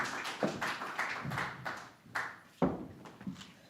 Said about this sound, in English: let's give a round of applause to Sanjok Basyal for giving such a great documentary for us